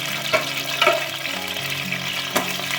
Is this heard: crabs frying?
yes